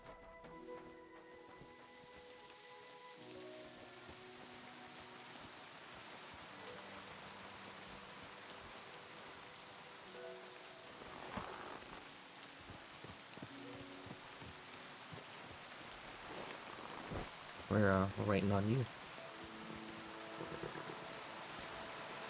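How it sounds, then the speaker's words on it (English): Steady hiss of rain in the video game Kingdom Come: Deliverance II throughout, with a brief spoken line midway and a short burst of louder sound near the end. "And it's raining."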